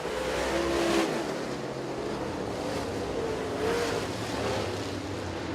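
Race cars circle a 3/8 mile oval track in Wauseon, Ohio during a heat race, their engines a steady blended roar with passing swells that rise and fade.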